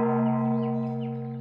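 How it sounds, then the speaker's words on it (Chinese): A temple bell rings at dawn, one sustained humming tone that slowly fades, heard alone and fairly loud. "清晨时分，门内钟声再次响起"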